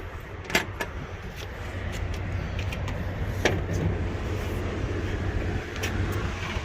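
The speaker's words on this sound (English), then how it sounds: "Blower's running." A rooftop HVAC unit's blower, on a unit with a not-heating fault, runs as a steady broadband whoosh over a low hum, with a few sharp clicks and taps scattered through.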